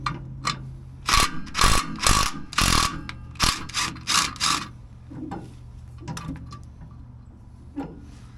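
Ratcheting and clanking bursts come from a wrench working a bolt loose from a truck frame bracket, several quick ratchet runs close up followed by quieter intermittent clicks and taps.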